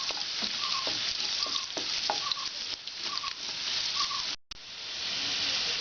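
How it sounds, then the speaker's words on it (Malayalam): Onions frying in oil in a pan for lime pickle, a steady close sizzle with repeated scraping strokes of a spoon stirring, one brief dropout near the end. "ഇതുവരെ നമുക്ക് ഇളക്കി കൊടുക്കാം."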